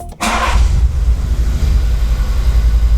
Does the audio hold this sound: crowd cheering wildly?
no